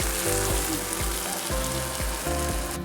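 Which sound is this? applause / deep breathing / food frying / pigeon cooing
food frying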